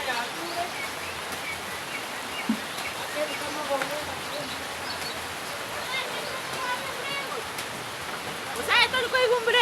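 Rain falling in an African village, a steady broadband hiss of drops throughout, with faint background sounds and a few brief bird-like chirps near the end.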